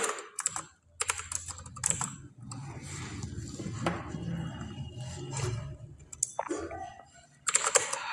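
Code is typed on a computer keyboard, close-up key clicks in quick irregular runs with brief pauses and a few louder taps, alone without any speech.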